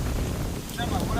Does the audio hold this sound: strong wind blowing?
yes